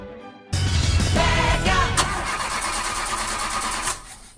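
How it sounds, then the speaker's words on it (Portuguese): A car engine cranks briefly then catches, settling into a loud, steady idle that runs for a few seconds before cutting off, heard alone. "falhas na partida do seu carro?"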